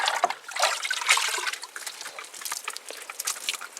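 Water poured out of a container for backyard chickens, a close, splashy trickle and gush that starts strong and then continues as a steady, uneven pour.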